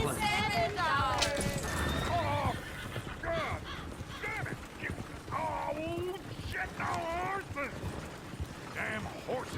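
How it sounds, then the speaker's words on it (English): Horses in the Red Dead Redemption 2 video game whinny and neigh repeatedly in loud, close bursts over a shuffle of hooves, with a voice speaking among the calls. "Damn horses."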